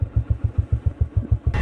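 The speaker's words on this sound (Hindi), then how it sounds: "बाइक आगे इसी रोड से हम लोग जा रहे हैं" A motorcycle engine on a mountain road putters in a steady, even rhythm of low pulses, close and moderately loud, with a sudden burst of wind noise at the very end.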